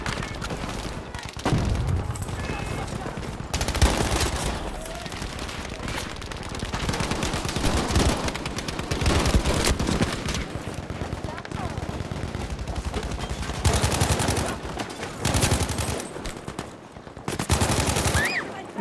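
Machine gun fire in Battlefield 5 crackles in long rapid bursts with short pauses, loud and close, with scattered voices mixed in.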